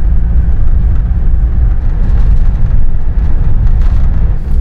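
Cabin of a motorhome cruising at about 90 km/h on a motorway, comparing Fiat and Mercedes chassis: a loud, steady low rumble of road and engine noise that runs unbroken throughout, with no talk.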